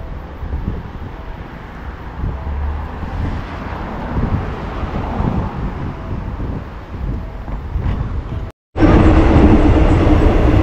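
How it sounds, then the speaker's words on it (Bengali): A local train pulls into Pattaya station in Thailand, its heavy rumble and rolling rail noise building steadily with wind buffeting the microphone, then cutting briefly before returning louder and closer. "দেখতে পাচ্ছেন আমার ট্রেন আসছে। তো এই ট্রেনে করেই আমি ব্যাংকক যাব।"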